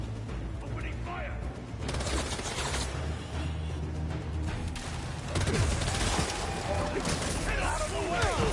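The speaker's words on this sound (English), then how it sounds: "Opening fire!" Gunfire and mechanical clatter in the Marvel's Spider-Man 2 video game form dense, continuous action noise with sharp bursts layered under game dialogue. The bursts grow louder in the second half.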